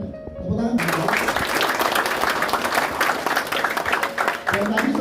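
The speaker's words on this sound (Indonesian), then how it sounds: "Tepuk tangan." Applause from the audience at an entrepreneurship class event at a university, with dense clapping that fills nearly the whole stretch, starting after a short spoken bit and continuing with a voice returning near the end.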